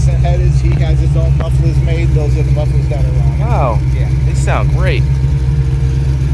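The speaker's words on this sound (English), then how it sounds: "Those are the mufflers that are on it. Wow. Yeah. They sound great." A 1970 AMC AMX with a 401 V8 idles through custom-made mufflers and American Racing headers, a steady deep rumble running throughout while people talk over it nearby.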